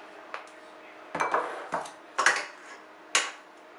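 A frying pan heating with fat for cooking tuna with oat bran, handled with several separate metallic knocks and clanks followed by short sizzling rushes, close and moderately loud.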